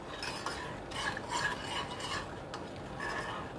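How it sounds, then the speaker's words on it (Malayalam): Milk is stirred in a pan as it heats toward a boil, making a soft, continuous scraping swish with light utensil taps against the metal. "പാല് തിളച്ച് വരുന്ന വരെ ഇളക്കി കൊടുക്കണം"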